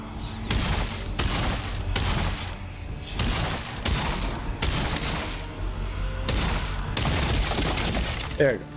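Enemy spawner structure being smashed apart in Valheim, a series of heavy crashing, shattering impacts in repeated bursts about once a second, loud and close, over a busy game background with a voice talking.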